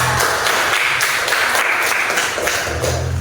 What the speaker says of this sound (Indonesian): tepuk tangan untuk Nasia